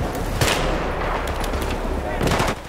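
Enemy gunfire aimed at players in Battlefield 3: dense, loud rattling shots that roll on continuously, with sharper bursts at the start and near the end.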